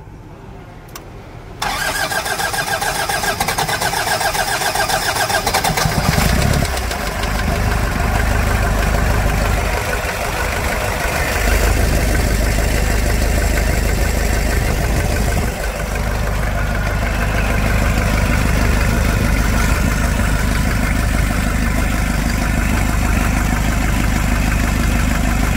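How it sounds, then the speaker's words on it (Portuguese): A 1997 Toyota SW4 3.0 turbo engine cranks and starts, then settles into a steady, loud idle that runs on for the rest of the stretch, with a few voices talking over it. "Vamos escutar o barulho do motor?"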